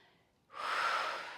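A single long, breathy exhale during an intermediate Pilates reformer exercise, starting after a quiet pause and swelling to a steady, close airy rush that fades slightly toward the end.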